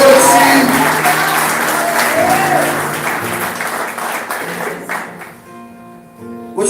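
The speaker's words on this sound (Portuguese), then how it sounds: "Dá uma salva de palmas a Jesus essa noite" A church congregation claps in sustained, loud, dense applause that gradually thins out and fades to scattered claps near the end.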